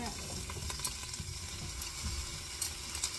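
Cauliflower is stirred with butter in a hot pan, a steady close sizzle with scraping stir strokes throughout and no speech.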